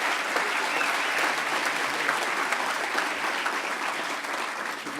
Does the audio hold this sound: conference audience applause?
yes